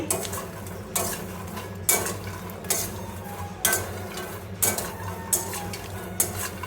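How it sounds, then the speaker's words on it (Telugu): Makhana (fox nuts) are stirred in a pan over high heat, with a spoon scraping and knocking against the metal in regular strokes about once a second, close and fairly loud over a low background hum. "ఇంకా కొద్దిసేపు వేయించుకుంటాము."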